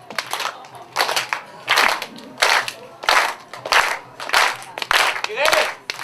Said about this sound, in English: let's get a nice slow clap going, please